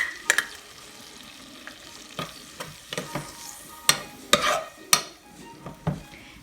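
Smashed garlic with salt and oregano fries in a hot pan, a steady low sizzle broken by sharp, irregular spoon scrapes and taps against the pan, close and fairly loud with no voices.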